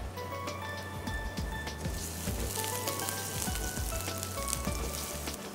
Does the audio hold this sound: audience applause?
no